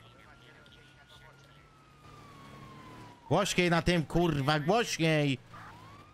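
Police car siren wailing in a rising and falling pattern as it pulls a Mustang over, faint at first behind a low tone, then loud and close alongside shouting voices.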